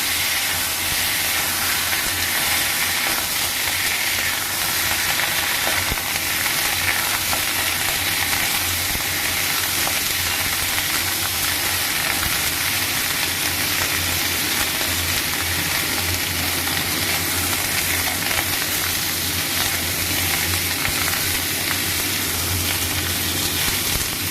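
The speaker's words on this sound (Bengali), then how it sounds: "এবারে বেগুনগুলো আমি ভেজে নেব, অল্প একটুখানি নেড়ে নেবো কড়াই বেগুনগুলো।" Brinjal pieces frying in a small amount of oil in a kadai, a loud, even hiss of sizzling oil that holds steady without pause and with no talking.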